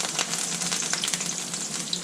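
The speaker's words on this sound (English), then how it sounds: "the reason why it's popping like that is the parsley is fresh" Fresh parsley fries in hot oil with a close, bright sizzle full of rapid crackling pops, steady throughout with no voices.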